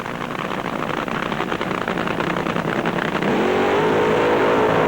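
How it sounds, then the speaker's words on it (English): Drag racing cars launching in an NHRA-style semi-final, with Eddie Hill's Pennzoil car winning; a loud, continuous roaring engine blast that swells and holds steady, with a rising engine tone near the end. "And away they go, blast off time again, and on the far side in the Pennzoil machine it's Eddie Hill who takes the win"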